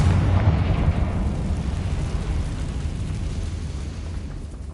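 A Confringo spell explosion in the Hogwarts Legacy video game opens with a deep, loud boom that rumbles on and slowly fades.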